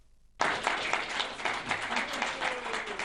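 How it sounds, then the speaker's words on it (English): Sustained applause from a crowd of nearly 100 people greeting a speaker starts abruptly and continues steadily, dense clapping filling the room. "Greeted with applause, Don Brash quickly launched into his speech,"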